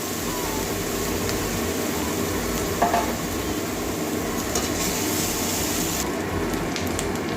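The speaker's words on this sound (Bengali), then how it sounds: "কাঁচা গন্ধটা যাওয়া পর্যন্ত ভাজবো" Ingredients sizzle in a pan of hot oil for a Bengali fish-roe kalia, a dense, steady crackle close up, with a brief stir or scrape partway through and no voices.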